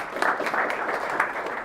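A small audience claps briefly at a talk in Pasadena, a short burst of mixed hand claps at moderate volume, fairly close.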